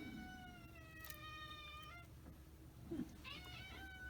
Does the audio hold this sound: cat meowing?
yes